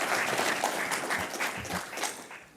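Audience applause at an awards opening ceremony, a dense steady patter of many hands clapping that holds for a couple of seconds before slowly thinning.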